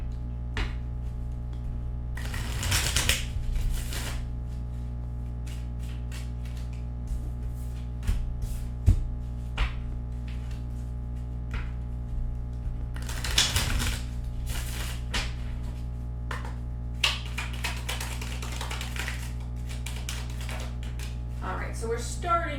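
Tarot cards are shuffled and drawn in two rustling, papery bursts, with scattered light taps and handling noises between them over a steady low hum.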